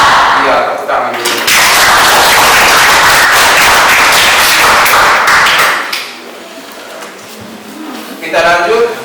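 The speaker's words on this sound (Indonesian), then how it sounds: "tepuk tangan dulu" A classroom of students claps hands together in a loud, dense burst of applause lasting about six seconds, then fading to scattered claps and murmuring voices.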